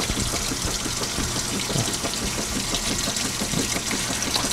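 A washing machine refilling with water for a second wash cycle, a steady broadband rush of running water with low pump-like rumble, continuous and fairly loud throughout.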